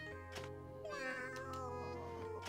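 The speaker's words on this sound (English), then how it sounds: "Oh, poor little kitty." A cat meows in the video game Atelier Rorona DX, a drawn-out, plaintive mew set over a soft, steady game music backdrop, faint and fairly short.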